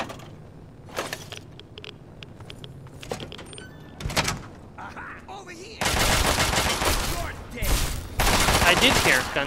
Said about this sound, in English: I did hear gunshots